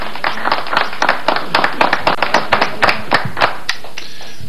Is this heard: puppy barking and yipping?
no